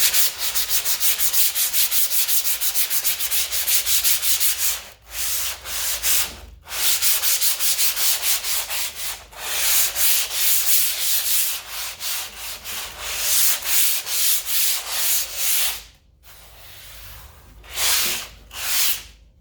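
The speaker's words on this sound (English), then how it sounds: "I'm just going to really quickly kind of do like a Mr. Miyagi wax on, wax off type thing" Sandpaper or a hand rubs quickly back and forth over a gesso-coated canvas, producing close, loud, rhythmic scratchy strokes that stop briefly a few times and resume in shorter bursts.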